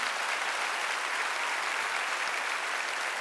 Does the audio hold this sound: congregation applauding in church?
yes